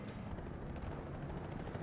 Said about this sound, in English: There's also a helicopter here